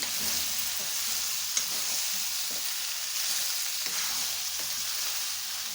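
Steady, crackling sizzle of chicken pieces frying in a hot pan with ginger, garlic and onion, with a few soft knocks of stirring now and then.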